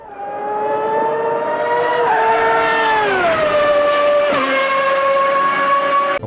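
Vintage race car engines in the Automobilista 2 racing game scream at high revs, one sustained loud whine that rises, dips through a gear change and drops in pitch before climbing again, with no talk.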